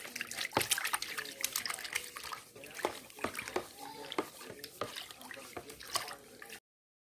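Hot water being applied to a wig, faint liquid splashing and dribbling with soft wet pats and drips, close and low in level, while someone talks over it.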